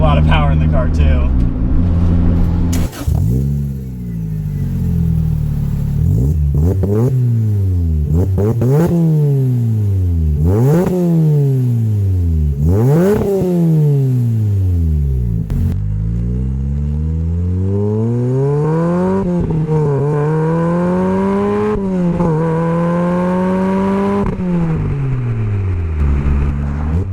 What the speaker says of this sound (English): I'll put the GoPro outside so we can kind of get a better clip of how the exhaust sounds.